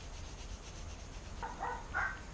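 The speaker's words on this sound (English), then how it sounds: "I'm just going to go ahead and rub this whole bird down" Soft, close rubbing of seasoning onto a whole chicken coated in hot sauce and salt, a few quiet scuffing strokes growing slightly louder toward the end.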